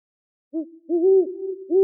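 An owl gives a short series of hoots, close and clear, against silence: one brief hoot, then a longer drawn-out call, then another hoot starting.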